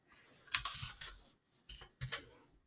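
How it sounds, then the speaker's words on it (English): A few quick bursts of keystrokes on a computer keyboard, close and quiet, clustered in short groups with brief pauses between them. "So if I type in demo"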